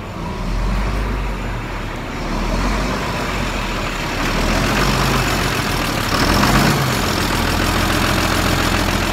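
A John Deere 4630 tractor's diesel engine warms up on a 22-degree morning, idling steadily and a little rough with a continuous low rumble that swells slightly partway through, running alone up close.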